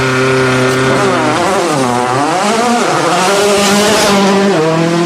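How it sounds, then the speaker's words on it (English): WRC rally car from the 2008 Argentina rally, charging up a mountain stage in the Sierra Grande, its engine roaring loud and close as revs rise and fall through gear changes, with no talking. "And first to tackle the mountain is rally leader Sebastian Loeb."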